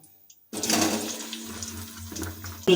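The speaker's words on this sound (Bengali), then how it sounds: "এখন আমরা এই তেলের উপরে কেটে রাখা দুশো গ্রাম আলুর টুকরোগুলো ভাজা করে নেব" About 200 g of cut potato pieces hit hot oil after a moment of quiet: a sudden loud burst of sizzling that settles into steady close bubbling, with no talk.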